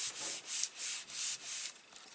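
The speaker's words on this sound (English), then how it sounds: "Just give it a good rub from the back." Paper on a handmade card is rubbed firmly from the back to burnish it, producing about four close, rhythmic swishing strokes with a dry, scratchy texture.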